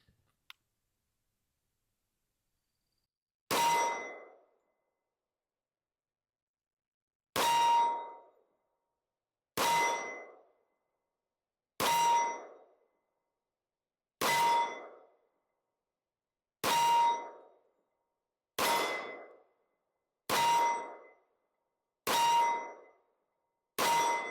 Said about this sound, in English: I think I will just shoot on this single target down here